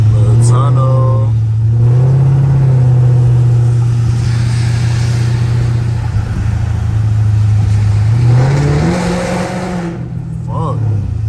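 A catless Dodge Charger SRT on a rainy drive revs loudly and steadily up and down, its close, droning exhaust breaking into crackling pops and burbles as the throttle lifts.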